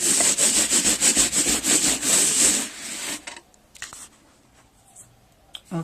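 Painted Hawaiian kapa bark cloth rubbed briskly from side to side, a rhythmic run of close scraping strokes that stops after about three seconds, followed by a few faint handling sounds.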